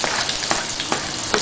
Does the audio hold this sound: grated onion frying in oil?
yes